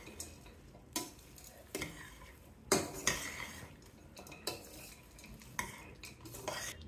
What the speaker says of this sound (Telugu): వేయించుకున్న తిరగమాతని రైస్లో కలిపేయండి. ఒకసారి తిప్పేద్దామా.